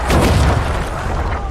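A ballista in The Witcher 2 launches a heavy bolt with one loud, deep booming release that rumbles and fades over about a second and a half, alone without voices.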